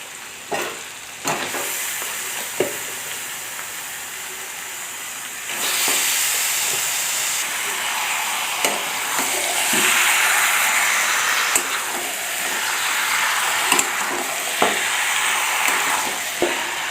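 Mutton being added to hot oil with fried onion, garlic and whole spices, a strong sizzle and hiss that swells as the meat goes in, with scattered clinks of a spoon stirring the pot.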